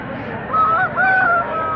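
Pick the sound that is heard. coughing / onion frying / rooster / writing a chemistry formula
rooster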